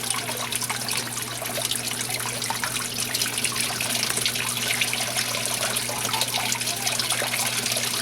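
Water flows steadily through a fine gold recovery bowl carrying material around its cone, a continuous loud rushing and trickling with a constant low mechanical hum beneath.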